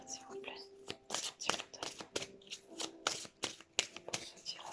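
Playing cards shuffled for a tarot-style card reading, a run of quick crisp riffling bursts close to the microphone, with a soft voice speaking quietly in between.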